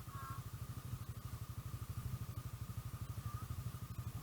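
A motorcycle engine runs during break-in at a steady, rapid pulsing idle, heard fairly faint with a thin whine above it and no speech.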